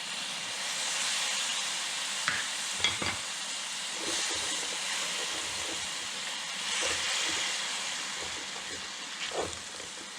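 A spoon stirs and scrapes the bottom of a pan as beef stock and white vinegar sizzle and bubble, cooking for pique a lo macho; steady hiss with scattered scraping knocks, close and alone.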